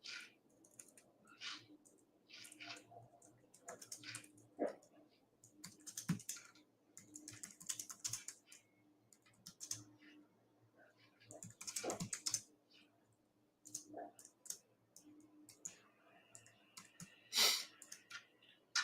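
Quiet bursts of clicky computer keyboard typing come in irregular clusters, close and fairly soft, with brief pauses between runs of keystrokes.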